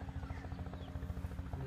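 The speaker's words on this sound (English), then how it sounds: "And then a chopper comes in and gets them and takes them back and forth." A helicopter arriving at a remote airstrip gives a steady, faint rotor thump with a low buzzing drone throughout, heard at a distance with no talk.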